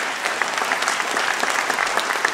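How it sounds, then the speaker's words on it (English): A crowd at a city council candidate forum on police accountability applauds the panel, a loud, close, dense burst of many hands clapping steadily with no speech over it. "Can we please give our panel a round of applause, please?"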